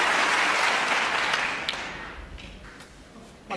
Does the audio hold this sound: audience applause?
yes